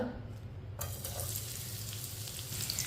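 Finely chopped onion fries in hot oil for a tinda curry, making a steady close sizzle that runs throughout without any talking.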